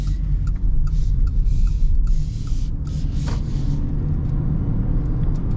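A 2025 Mitsubishi Outlander PHEV driving in electric-like mode, a low steady road rumble and cabin hum with faint mechanical whirring, no engine revving, continuous throughout.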